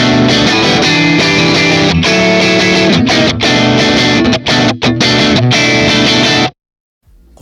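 An electric guitar played through a Revival Drive overdrive pedal rings out loud and sharp with crisp, distorted chords and short breaks before cutting to silence.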